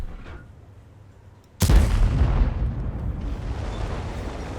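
A tank cannon fires in a tank video game with one sudden, heavy boom that rolls into a long, loud rumbling tail, alone without talk.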